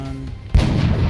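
A single heavy gunshot booms in XCOM: Enemy Unknown, a sudden loud blast after a quieter lead-in, followed by a rumbling, reverberant tail.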